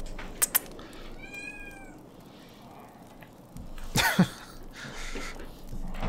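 A cat sitting on a desk lets out one short close meow among a few light knocks, followed later by a throaty cough-like sound and soft rustling in a quiet room.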